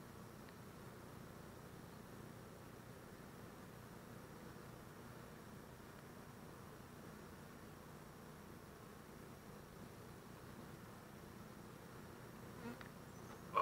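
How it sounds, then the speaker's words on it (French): Honey bees buzz around a hive frame holding honey and brood, a soft, continuous drone that stays even throughout with no voices. "Ils produisent énormément de miel, ces petites abeilles-là."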